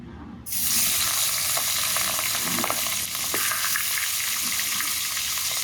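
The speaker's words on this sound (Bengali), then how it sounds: "আগে রুই মাছের মাথাগুলো ভেজে তুলে রাখবো, তারপরে ইলিশ মাছ ভাজবো।" Loud, steady sizzling of rohu fish heads frying in hot mustard oil, a dense crackling hiss that starts abruptly and continues throughout, with occasional sharper pops.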